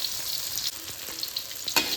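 Meatballs sizzle as they fry in oil in a home kitchen pan, a steady close crackle broken by a few sharp pops and spatters of hot fat, with no talking.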